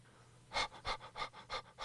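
A fox pants hard after jumping again and again for grapes, giving six loud, rhythmic breathy pants at an even pace, close up and with no speech.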